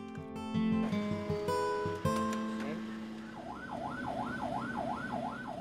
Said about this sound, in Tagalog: inilipat naman si Delphine sa isang ambulansya